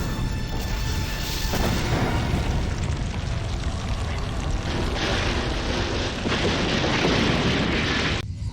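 A video game explosion in Beyond the Edge of Owlsgard roars as a loud, dense, sustained rumble for about eight seconds before cutting off abruptly.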